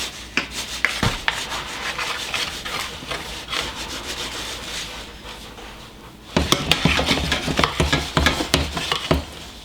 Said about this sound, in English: now that is in, you just got to mix that around and get that nice melted and incorporated